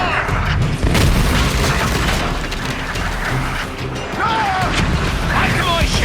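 Mortar fire during a ship battle in Assassin's Creed Black Flag, with heavy booming blasts and crashes churning through a continuous, loud din of naval combat.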